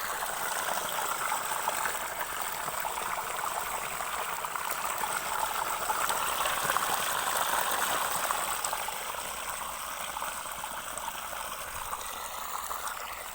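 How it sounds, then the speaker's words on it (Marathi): Steady rushing, splashing water flowing continuously at moderate level, a strong stream gushing from the pipe of a 3 hp L&T solar farm pump motor, with no voices. "पाणी जास्त मारते मोटर"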